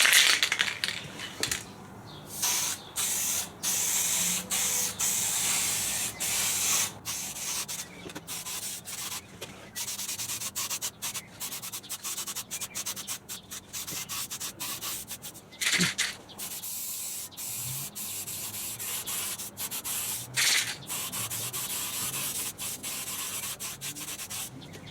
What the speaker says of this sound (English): I'm going to start spray painting